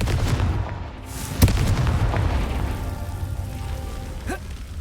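A Confringo blasting spell in Hogwarts Legacy explodes with one sharp boom at about a second and a half, followed by a rumbling ambient wash and a faint later swish.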